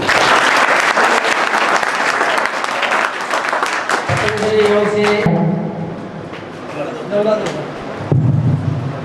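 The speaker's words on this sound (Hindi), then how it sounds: "ताली बजाते रहो बेटा, ताली।" Loud, dense applause from a crowd fills the room, then thins as voices and background music come through, with clapping swelling again at the end.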